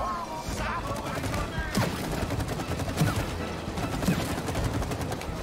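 Rapid gunfire from shooting in the video game It Takes Two, a steady rattle of shots running throughout over a busy game soundtrack, with a few sharper bursts standing out.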